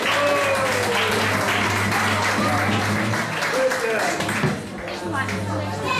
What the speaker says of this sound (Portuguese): Uma salva de palmas para a Reporta X, por favor.